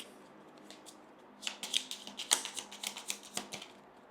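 Deck of cards shuffled during a solo Mandalorian Adventures board game, a quiet rapid run of riffling flutters and light card slaps lasting a few seconds.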